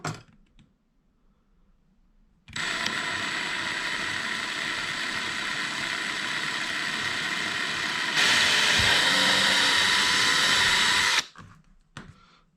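A power drill whines steadily for about nine seconds drilling a pilot hole into a kayak hull, rising in pitch and loudness partway through, then cuts off abruptly into quiet.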